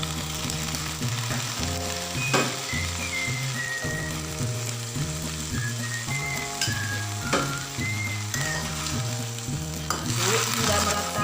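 Mustard greens (sawi) stir-fry in a pan with a steady close sizzle and hiss, occasional clinks of a utensil, and a melodic tune playing underneath.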